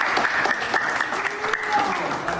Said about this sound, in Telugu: 1 సెకండ్ అందరూ క్లాప్స్ కూడా.